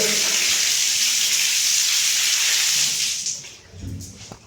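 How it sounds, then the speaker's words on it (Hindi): A BLDC motor water pump in a home running and pumping water, a steady loud hiss of rushing water for about three seconds that then fades into quieter splashing and clunks. "ये BLDC मोटर अब चल रही है इस समय पे"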